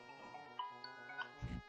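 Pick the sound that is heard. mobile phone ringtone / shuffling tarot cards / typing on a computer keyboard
mobile phone ringtone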